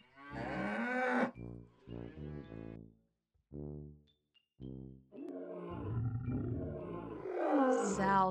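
Cows moo several times in a row, long low calls with clear breaks between them, followed by busier mixed farm animal noise that builds toward the end.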